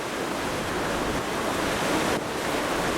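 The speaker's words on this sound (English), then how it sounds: "I'm outside on the rear of the deck. There's blue sky in the air, but a terrific wind, good sized swells." Strong wind roars across the rear deck of a cruise ship at sea in rough swells, a dense, steady rush of noise without a break, with no voices.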